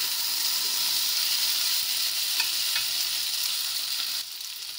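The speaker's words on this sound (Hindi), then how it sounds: "परवल के साथ आलू को हम 5 मिनट भून लेते हैं" Potatoes with pointed gourd fry in a pan, a loud, dense, continuous sizzle up close with a couple of faint stirring clinks, easing slightly near the end, no talking.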